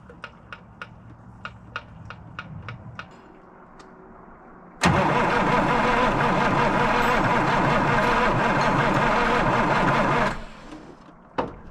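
A Peterbilt 359 diesel truck engine that sat unused for 20 years cranks with a few clicks, then catches and roars loudly at a high steady run for several seconds before cutting off abruptly; no speech.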